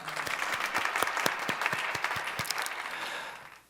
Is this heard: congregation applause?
yes